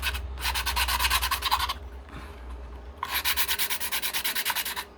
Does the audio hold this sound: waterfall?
no